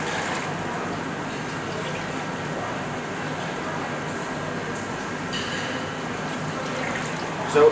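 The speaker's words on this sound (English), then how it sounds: "We're going to add 3 bowls, full bowls of water." A steady, broadband rush of water pouring continuously into a bowl of rice, fairly close, with a small clatter near the end.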